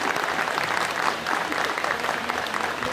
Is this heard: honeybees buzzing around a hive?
no